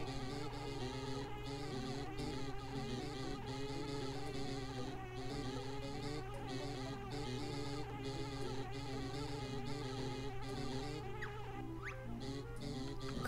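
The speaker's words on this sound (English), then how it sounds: "Oh, come on, fucking bee." In the video game Banjo-Tooie, a bee gives off a steady, continuous buzzing drone that runs the whole time, fairly quiet and unbroken, layered over a dense game soundtrack.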